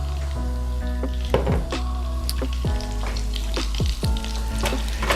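Canola butter and regular cooking oil heat in a pan ahead of a Vietnamese shaking beef stir fry, with a loud, steady sizzle and repeated scraping strokes and clinks against the pan, close and without talking.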